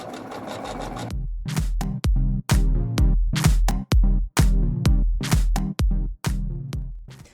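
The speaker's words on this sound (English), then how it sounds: "And I'm going to continue sewing close to that folded edge, and this is securing my hem in place." A sewing machine stitches a folded fabric hem on a tote shopping bag, first in a continuous run, then in a series of short, loud bursts of rapid needle clatter separated by brief pauses, close up and with no talking.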